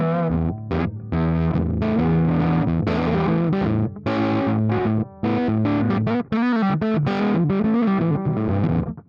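An electric guitar plays a busy, distorted phrase through a small Fender Greta tube amp with the tone knob rolled fully back, giving a dark, muffled tone with clipped note attacks.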